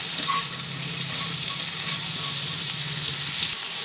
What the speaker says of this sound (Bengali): হলুদ আর নুন দিয়ে এই ফুলকপিটা ভেজে নিচ্ছি